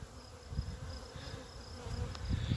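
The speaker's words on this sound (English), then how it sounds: "There's my swarm of bees." Honey bee swarm clustered in a tree, heard as a steady, fairly soft buzzing drone with individual bees rising and falling in pitch over outdoor background noise.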